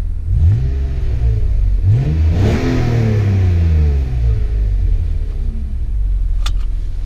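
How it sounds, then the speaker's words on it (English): BMW M3 engine revved up from idle in short bursts, a loud, close rumbling rise and fall that repeats several times with no talking over it. "Let's give her some revs,"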